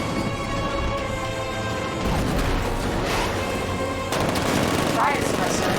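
A 60mm cannon on the Batmobile in tank mode fires in Batman: Arkham Knight, heavy gunfire bursts rolling continuously over a dense combat soundscape with music underneath, loud and sustained throughout.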